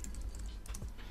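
A computer keyboard is typed on, with a few quick, quiet keystrokes clicking close by.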